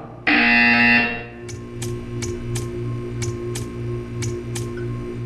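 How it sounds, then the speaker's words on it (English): A loud electronic buzzer tone in the video game Portal 2 sounds for about a second, then gives way to a steady low hum with regular, evenly spaced ticking clicks. "You will hear a buzzer."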